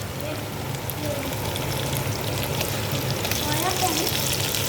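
Tomatoes dropped into a hot pan for capsicum masala set off a steady, close frying sizzle with crackly, rain-like spatter that carries through the whole stretch.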